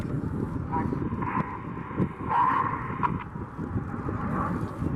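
RAF Red Arrows jets roaring overhead during a flying display at Duxford, heard as a steady, distant engine rumble with wind buffeting the microphone.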